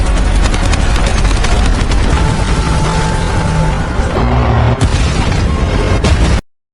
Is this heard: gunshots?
yes